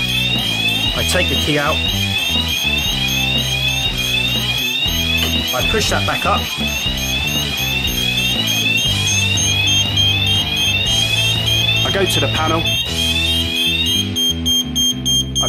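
Fire alarm sounders on a Kentec panel weekly test blare continuously with a rapid, high-pitched pulsing tone while a person talks over them close by.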